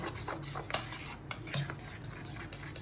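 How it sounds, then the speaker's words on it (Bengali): Batter mixed with milk being stirred in a bowl, with a utensil clinking and scraping against the sides in quick repeated strokes, close and clear with no talking. "এতে একটু দুধ দিয়ে দেবো, ব্যাস, ভালো করে মিশিয়ে নেবো"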